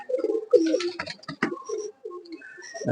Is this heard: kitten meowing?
no